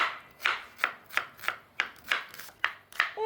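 A kitchen knife chops ingredients for Kazakh beshbarmak in a steady series of about nine crisp, close cuts against a board, evenly spaced and with no talking.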